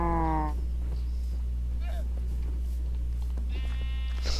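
Minecraft sheep bleating in a farm pen with a shear dispenser, a short wavering bleat at the start and another near the end, over a steady low game hum.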